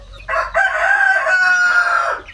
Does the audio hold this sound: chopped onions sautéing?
no